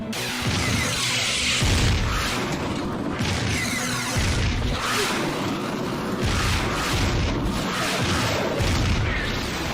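Torpedo explosions in a Red Dwarf space battle make dense, continuous rumbling booms with repeated heavy blasts, loud and sustained throughout.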